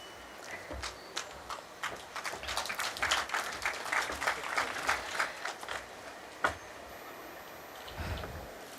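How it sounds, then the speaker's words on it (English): Applause from the audience at a conference inauguration ceremony in Nepal, marking the lighting of traditional Nepali lamps. Moderate, fairly distant clapping swells and fades over several seconds, with scattered sharper claps. "may we have a big round of applause, please, as the conference inauguration ceremony is symbolically taking place"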